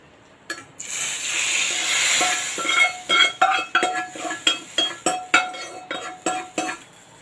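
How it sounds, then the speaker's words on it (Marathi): Hot phodni tempering poured onto simmering spinach dal palak in a pot, starting with a hissing sizzle, then a run of sharp metallic clinks from a spoon against the pot in a steady rhythm. "इथे जी मी फोडणी घालून घेतली होती ती मी याच्यावर घालणार आहे"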